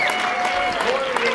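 Audience at a live show clapping: a short burst of dense crackling applause with a voice talking over it.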